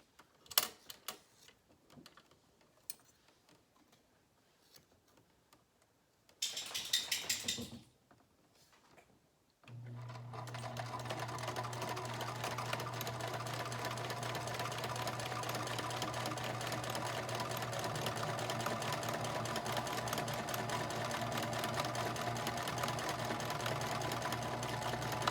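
A sewing machine fitted with a zipper foot stitches fabric along a zipper for a homemade mask. Faint clicks and a short rustle of fabric come first, then a close, steady whirring hum of stitching runs on without pause.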